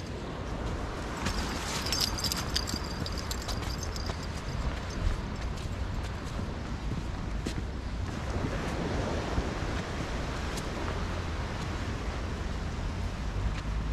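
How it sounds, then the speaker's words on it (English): Sea waves wash along the shore by the promenade between Larne and the Black Arch, a continuous broad surf rush mixed with gusting wind noise on the microphone and some scattered clattering taps. "We'll leave the waves now to later"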